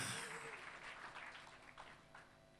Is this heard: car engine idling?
no